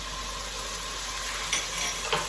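Chicken for coq au vin stirred in a hot frying pan sizzles steadily, with a few brief scraping clicks of the utensil near the end.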